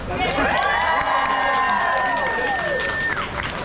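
A small group of people cheers and whoops together on the Olympic Peninsula, a loud, brief burst of mixed voices rising and falling with a shouted call near the end.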